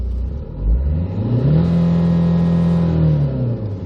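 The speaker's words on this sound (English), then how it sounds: "You can hear the engine." A 2005 Hyundai Santa Fe diesel with automatic transmission revs up under acceleration, its engine note rising steadily into a loud, sustained drone before easing off slightly, with no talking over it.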